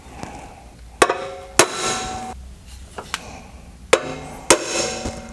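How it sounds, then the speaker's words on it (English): Five or six sharp metallic hammer strikes on a center punch against a metal battery tray at irregular intervals, each a bright ringing clang that decays quickly, with no talking. "You might want to use a longer center punch."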